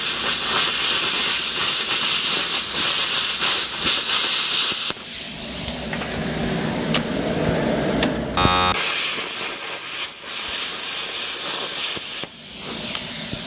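Steady loud air hiss from a plasma cutter's post-flow continuing after the cut, close and constant, with a brief electronic buzz partway through and no talking.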